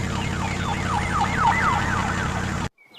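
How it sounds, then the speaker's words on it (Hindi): A cartoon police siren wails in a loud, rising and falling pattern, cycling steadily for a couple of seconds before it cuts off abruptly into near silence. "पुलिस आ जाती है और कालू कौवे को पकड़कर ले जाती है।"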